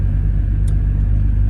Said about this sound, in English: The truck's running great.